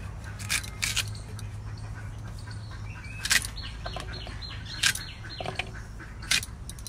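Raw mankochu (giant taro) is peeled by hand, giving scattered, crisp scraping strokes, about five distinct bursts close up, over a low background hum with faint bird chirps.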